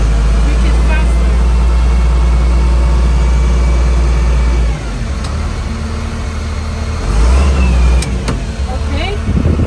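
A loader's engine rumbles loudly and steadily in the foreground as the gas pedal is pressed, the low drone shifting in pitch and swelling toward the end, with a voice speaking over it.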